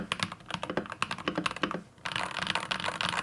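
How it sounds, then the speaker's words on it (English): Rapid typing on a Nymphy Halon A6 mechanical keyboard fitted with G Pro V2 switches, close and crisp keystrokes in quick irregular bursts with a brief pause midway, no voices. "and here's a quick sound test"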